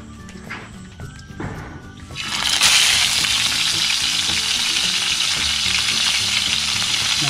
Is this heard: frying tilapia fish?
yes